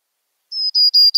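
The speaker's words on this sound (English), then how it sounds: "So much, much different song than the other two Spizella sparrows." A Spizella sparrow's recorded song, made of several distinct notes: four clear, high, whistled notes follow one another quickly after a brief silence, crisp and close, with no other sound.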